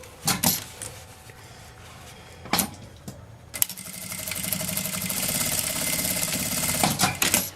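A sewing machine stitches a seam across a bag handle with backstitching, starting after a few handling knocks and clicks, then a rising, steady motor whir close by with no talk.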